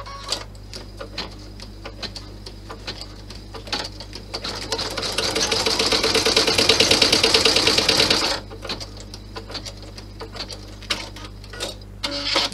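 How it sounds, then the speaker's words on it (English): A sewing machine runs steadily for a few seconds, stitching fabric down along a placement line for a clutch bag, with quieter handling and clicks before and after. "we're going to stitch it down"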